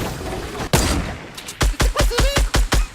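Gunfire in the video game Fortnite: a single loud shot, then a rapid string of about seven sharp, evenly spaced shots, close and punchy, with no talk over them.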